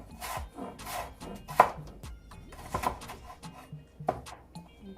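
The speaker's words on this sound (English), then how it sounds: "And what you want to do with the carrot, just turn it over like this and slice it." Knife slicing a carrot on a cutting board, a handful of separate crisp chops and taps spaced irregularly, close and fairly quiet.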